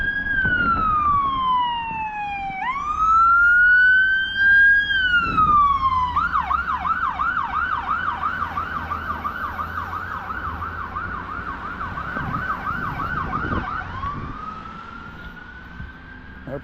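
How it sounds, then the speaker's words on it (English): An ambulance siren passes along a street in Lewiston, Maine on a winter day, loud and near, its wail rising and falling before switching to a rapid yelp, then fading back to a wail. "we've got an ambulance coming by here."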